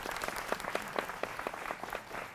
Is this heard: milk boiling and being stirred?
no